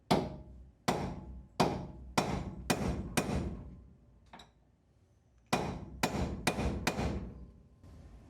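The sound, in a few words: hammer striking a stuck pin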